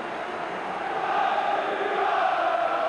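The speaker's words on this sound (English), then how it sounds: "a noisy partisan crowd here tonight for this local derby" A noisy, partisan football crowd at a local Arsenal derby in 1991 keeps up a steady, dense roar throughout, swelling slightly toward the end.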